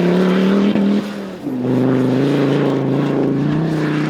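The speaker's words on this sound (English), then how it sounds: "Oh, just the revs underway. Lovely pull away." A car with a TD5 engine revs loudly and close by, then drops in pitch briefly and pulls away with a steady rising drone.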